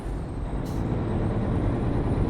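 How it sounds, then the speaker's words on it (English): A loud, steady broadband hiss of a Mack truck's air brakes releasing in a truck-driving video game, continuous and close throughout. "I got a loud truck."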